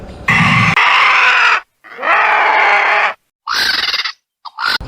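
Vulture calls: several harsh, raspy squawks and hisses in short bursts separated by brief silences, close and loud, with no voices.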